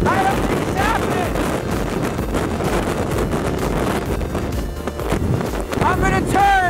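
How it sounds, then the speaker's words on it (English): Strong gusting wind batters the microphone on an exposed summit of the Adirondack High Peaks, a loud continuous roar that surges and buffets throughout while a voice shouts faintly underneath. "By far the windiest place I've ever been."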